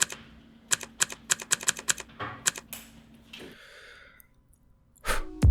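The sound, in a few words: typing on a Logitech MX Keys keyboard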